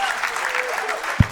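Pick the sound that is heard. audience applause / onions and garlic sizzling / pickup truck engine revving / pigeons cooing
audience applause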